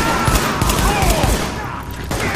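Continuous loud gunfire and bursts of shots from the video game The Division, dense and overlapping with booms beneath, filling the whole stretch.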